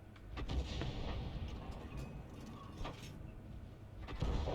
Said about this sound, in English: I'm going to knock this building down with a large HE round